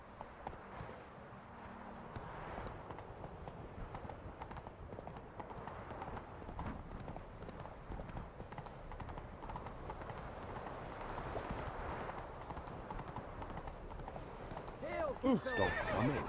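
Hooves of Geralt's horse Roach clip-clop at a run through The Witcher 3, a steady drumming of game footfalls under a wash of in-game ambience and voices, with a whinny near the end.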